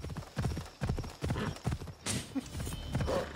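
Steady hoof clip-clops of a horse in Assassin's Creed Odyssey beat in a quick, even rhythm, close and fairly loud, with a brief whoosh partway through.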